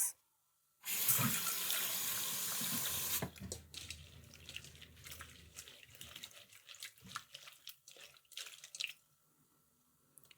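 Pearl barley rinsed under a running kitchen tap: a burst of steady gushing water for a few seconds, then wet sloshing, swishing and dripping as the grains are swirled, close and fairly quiet.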